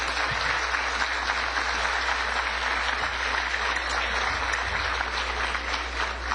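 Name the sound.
strong applause for conference speaker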